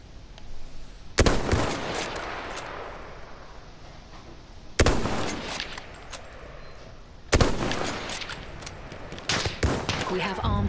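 Gunfire in the Battlefield 1 open beta, with three sharp loud bursts that each trail off into a long echoing decay, plus scattered smaller shots in between. Battlefield noise plays throughout.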